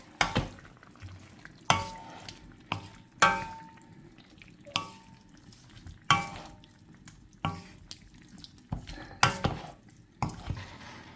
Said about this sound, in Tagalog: haluin natin para pantay ang pagkakaluto